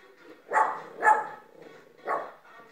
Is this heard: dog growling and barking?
yes